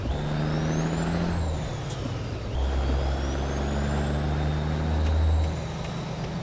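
A Peterbilt 352 cabover truck in American Truck Simulator pulls away in fourth gear, its low diesel drone steady and close, with a hiss of air brake release and a rising whine as it gets moving.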